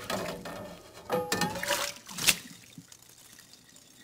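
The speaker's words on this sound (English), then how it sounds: "throw a sponge on it, turn the water on" Tap water runs and trickles over a sponge, an uneven splashing flow that swells in the middle, with a sharp clack, then fades to a faint dribble.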